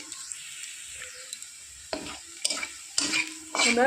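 Onions frying in a pan, heard as a soft background sizzle broken by spoon-on-pan clinks and scraping stirs that grow louder and busier toward the end.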